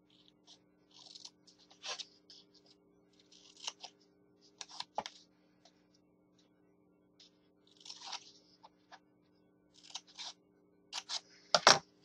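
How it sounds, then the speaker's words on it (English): Scissors cutting paper to make a mini Post-it note holder, heard as scattered short snips and crisp crunches separated by quiet pauses, close and fairly soft, with a faint steady hum underneath. "you're going to cut where that 1/4 inch is, but you're going to cut this off and that, so it looks like a step"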